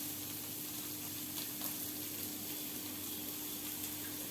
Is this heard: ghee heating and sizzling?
yes